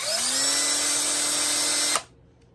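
A drill spins a 3D-printed rank pip held by a magnet against sandpaper, making a loud, steady whir that runs for about two seconds and then cuts off abruptly.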